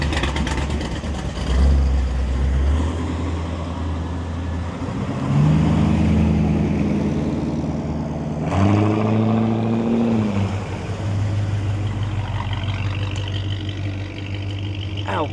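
A hot rod Willys Coupe's engine rumbles close by as cars drive out of a garage, with several rising revs and a throaty, sustained drone throughout.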